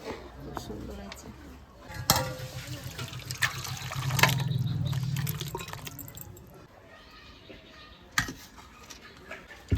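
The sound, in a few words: pouring Sunday mutton curry into a bowl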